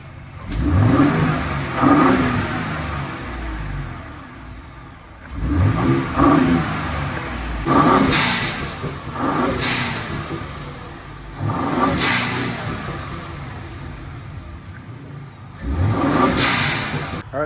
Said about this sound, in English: We're supposed to do a blow valve installation on it, so we'll do before and after sounds